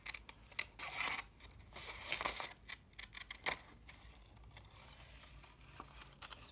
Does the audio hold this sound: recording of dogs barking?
no